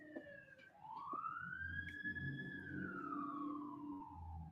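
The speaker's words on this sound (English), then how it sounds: "Can I get some sirens?" A single siren wail rises and slowly falls, fairly faint over a low rumbling background, with no talking.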